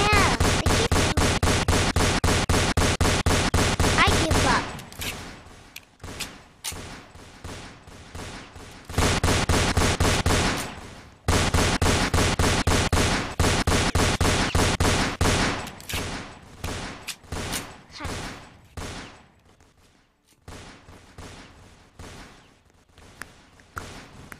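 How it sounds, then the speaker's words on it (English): Rapid bursts of video game gunfire in Roblox, dense repeated shots in long loud volleys broken by gaps, then scattered single shots growing fainter. "Oh my god, you got a sniper shoot me one shot and I'm down."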